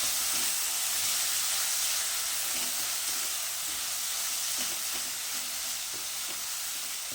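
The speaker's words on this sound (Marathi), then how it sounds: "मसाला या कांद्याबरोबर अगदी व्यवस्थित भाजून घ्या." Masala frying with onions in a pan sizzles steadily and fairly close, with light stirring scrapes now and then and no talking.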